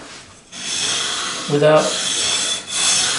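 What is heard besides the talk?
sanding guitar fretboard with 240 grit radiused sanding block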